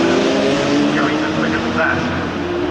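Race cars, including a Ferrari and an Intersport BMW M3, circulate at Brands Hatch during a 2012 Britcar race, their engines a steady, loud roar with some pitch sweeps as they pass.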